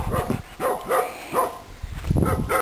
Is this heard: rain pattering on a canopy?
no